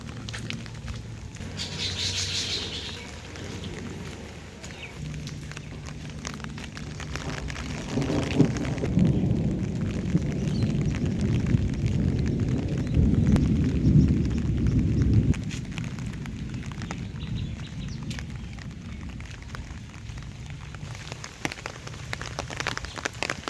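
Steady rain falls on a village in Singair, Manikganj, a dense even patter on surfaces throughout that swells into a heavier downpour midway before easing back, with no talking.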